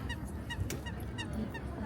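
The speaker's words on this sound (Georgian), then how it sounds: "ნახეთ იხვები როგორ დაცურავენ" Ducks swimming on a pond in a Batumi city park give a series of short nasal quacks over steady outdoor background noise, moderately near.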